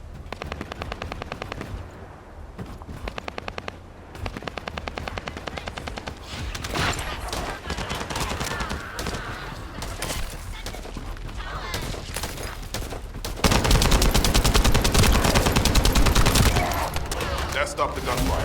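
Rapid bursts of automatic gunfire in the video game The First Descendant rattle repeatedly, growing heavier and louder toward the end, with sustained volleys of shots and explosions.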